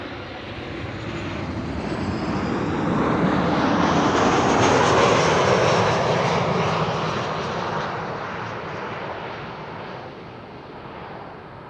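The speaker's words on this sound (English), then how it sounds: "Next up, KLM Flight 1772, arriving from Berlin." A KLM airliner arriving from Berlin at Amsterdam Schiphol lands with a broad jet roar that builds from a distance, peaks loud as it passes close, then fades away, with light wind buffeting throughout.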